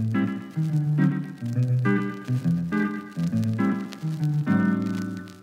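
Clean electric guitar playing a short melodic phrase through a 1960s Chicago Music Instrument Co. echo chamber, each note trailing into soft repeating echoes that blur the phrases together.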